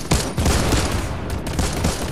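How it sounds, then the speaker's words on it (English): Dense gunfire from the Fortnite video game, with loud, continuous volleys of overlapping shots that keep up without a break. "I'm getting shot at."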